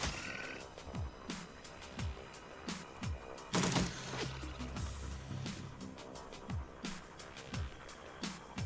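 Gunfire in the video game Shadowrun Returns, a string of sharp shots at irregular intervals with one heavier burst partway through, heard over game background sound.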